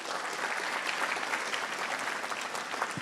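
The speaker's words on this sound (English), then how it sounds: "and a round of applause there, please." Audience applause at a student hackathon opening ceremony at Imperial College, a large crowd clapping continuously and evenly, loud and dense throughout.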